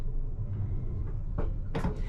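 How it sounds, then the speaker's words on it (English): A Piccadilly Line train driver's control handle clicks a few times in a quiet cab, sharp close knocks near the end over a low running rumble. "So the handle, which is what we use to drive the train, whenever you move it, you get a click."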